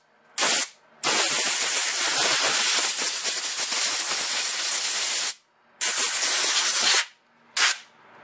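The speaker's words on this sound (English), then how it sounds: "And then some compressed air to clean it up." Compressed air blasts across a Briggs and Stratton carburetor in loud, close hissing bursts: a short puff, a long sustained blast of several seconds, then two more shorter blasts.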